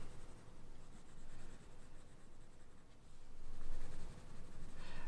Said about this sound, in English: I like to do this with quite a soft pencil.